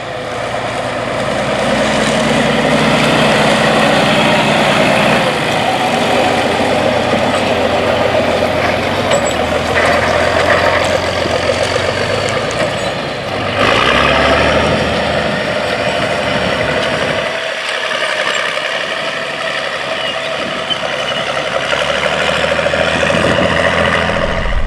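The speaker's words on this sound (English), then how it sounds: "The plow is lifted up, makes a loop and shakes off the residue, and then returns back to the plowing pass." A 1970s tractor working a plow in the field, its engine droning steadily throughout, with shifts in pitch and load as the plow lifts, turns in a loop and returns to the pass; loud, close and continuous.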